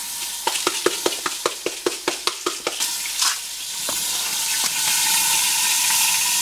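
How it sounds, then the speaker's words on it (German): Onions and garlic frying in a pan for a coconut sauce with a fish dish, with a spoon stirring in a quick series of sharp clacks and then a steady close sizzle. "Zwiebeln und Knoblauch haben wir angebraten, Gemüsegewürz getrocknet."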